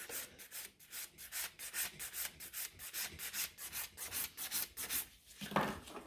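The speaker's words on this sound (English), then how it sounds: "by filing those sides" Quick, even strokes of a nail file scrape along the sides of gel nail extensions, a close, soft rasping rhythm repeating steadily with no talk.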